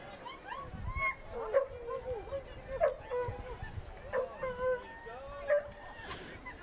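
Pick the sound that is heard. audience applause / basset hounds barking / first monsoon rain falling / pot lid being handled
basset hounds barking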